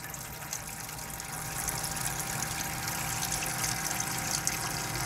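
Water gushes steadily from a cold-water tap in a Citroen Berlingo campervan with the hum of a small electric pump running underneath, a constant close rushing sound.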